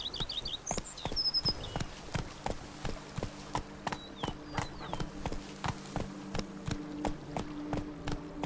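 Horse hooves trotting in The Witcher 3, crisp evenly spaced clip-clops close by, with faint birdsong above a quiet ambient background.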